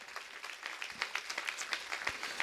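A crowd claps at a Jain temple ceremony, honouring those who helped build the temple. The scattered, rhythmic clapping sounds moderately distant and fairly quiet, with no talk over it.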